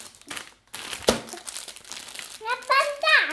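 The wrapper of a chocolate Easter egg is crinkled and torn open in a few short, close bursts of crackling foil, while someone speaks excitedly between and over the rustling.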